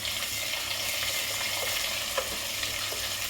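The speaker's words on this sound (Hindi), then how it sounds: "प्याज अच्छी तरह भून रहा है। इसी वक्त इसमें मैं आलू डाल देती हूँ।" Onions frying in a pan with potatoes just added, a steady broadband sizzle with occasional faint stirring clicks throughout, no voices.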